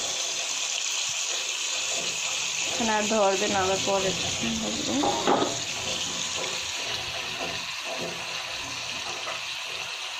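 Dhela fish sizzling in hot oil in a pan ahead of cooking with tomatoes, a steady close hiss and crackle that runs throughout while someone talks over it.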